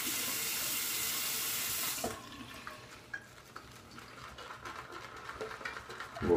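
Tap water pours loudly into a shaving scuttle for about two seconds, then cuts off, leaving quieter trickling, sloshing and small clinks of the ceramic as the water settles.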